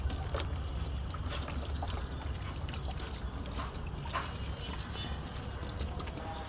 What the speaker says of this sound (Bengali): লাউ গাছে চাল ধোয়া পানি দেওয়া হচ্ছে।